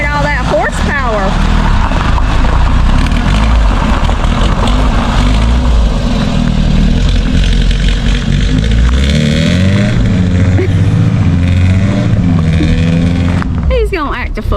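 A 1975 Chevrolet Vega engine revs loudly and steadily with a low rumbling drone close by, people talking over it, and the roar drops off abruptly near the end.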